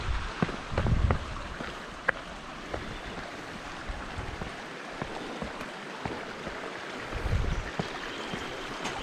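A small creek on the Marrinup Falls walk loop, flowing in a continuous broadband wash close by, broken by a few low thumps and faint clicks.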